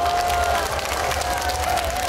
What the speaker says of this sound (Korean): 다시 한 번 더 큰 박수 보내주시죠